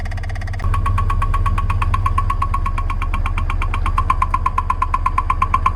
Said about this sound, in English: Sounds like we might have one follower or one lash adjuster that is making noise.